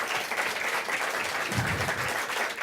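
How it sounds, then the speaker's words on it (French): Studio audience applauding on a regional TV news set for Jean-Paul Vincent's final broadcast, a steady wash of clapping at moderate level throughout, with no talk. "Je crois qu'on peut applaudir."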